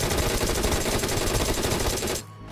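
Sustained gunfire from PUBG Mobile, a dense automatic burst of shots at steady high loudness for about two seconds before cutting off abruptly into near silence.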